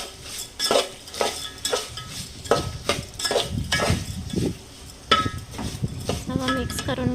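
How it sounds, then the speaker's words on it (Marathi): A spoon stirs sugar into gud bhat, jaggery rice, in a pot, producing repeated scraping clinks in an uneven rhythm, close and moderately loud, with brief voices now and then. "आई सगळं मिक्स करून घेत आहे।"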